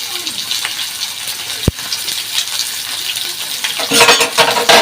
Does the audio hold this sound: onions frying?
yes